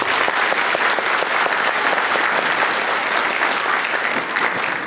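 A large crowd applauds loudly and continuously at a Statehood Day commemoration in Janja, a dense, sustained roar of clapping that stays level from start to finish.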